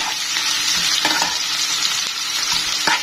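Onions fry in a pan for a home-cooked vegetable dish, giving a loud, continuous close sizzle broken by a few stirring scrapes and taps, with no talk.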